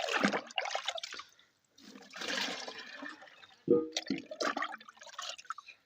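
Water poured into a greenhouse bed to feed cucumber plants with a green-tinted liquid feed, heard as gurgling, splashing bursts that start and stop, close by and fairly quiet.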